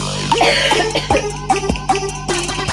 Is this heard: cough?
yes